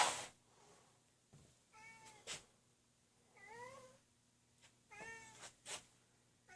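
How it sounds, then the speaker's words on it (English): A cat meows repeatedly nearby, three or four short rising-and-falling calls spaced a second or two apart, mixed with faint soft clicks and thumps in a quiet room. "my cat"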